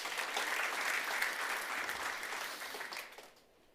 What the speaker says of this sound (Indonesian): Beri tepuk tangan, saudara.